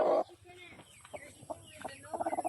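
Native chickens on a small farm give soft, close clucks and a quick run of rhythmic cackling after a brief loud burst at the start.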